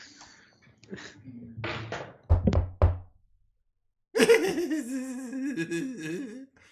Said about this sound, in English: you hear him at the door before he actually knocks